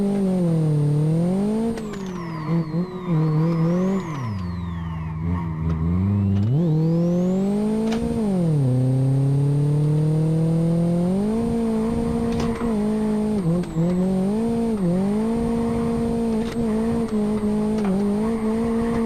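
Software-tuned front-wheel-drive Renault Megane drifting with the handbrake, tires squealing in long sustained wails over a loud, rising and falling engine roar, close and continuous throughout with no talking.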